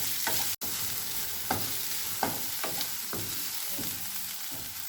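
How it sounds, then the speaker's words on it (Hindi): Onions fry in a pan for an omelette, giving a steady close sizzle with several sharp spoon clicks and scrapes as they are stirred; no one speaks. "प्याज को भी कुछ सेकंड के लिए भूनेंगे।"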